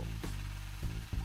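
A continuous droning power-tool whir from a drill in the Roblox video game, steady and close, broken by a few short clunks.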